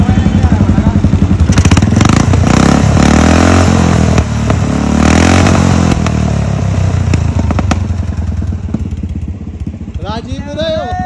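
A motorcycle engine runs loud and close at a home construction site where ceiling and lighting work is being finished, with revving surges and rattly clatter throughout and the idle easing off near the end.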